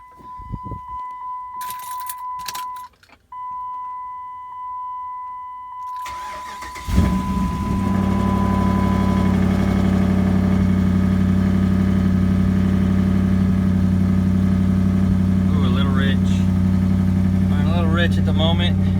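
A race car engine, just back from an exhaust header repair, cranks over and catches around seven seconds in, then settles into a loud, steady idle; keys jangle and small handling noises come before it, and a voice speaks briefly near the end.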